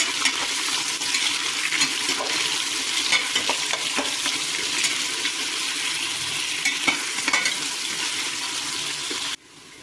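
Sliced large onions fry in a pan for vegetable biryani. A loud, continuous hissing sizzle runs under repeated spatula scrapes and stirs, then drops off abruptly at the very end.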